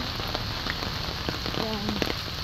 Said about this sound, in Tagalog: Ulan lang.